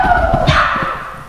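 A dog gives a short bark or yip during agility training, close and clear, with a steady tonal background hum underneath.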